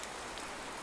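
A brief, faint wash of steady rain hisses evenly in the background, with no voices.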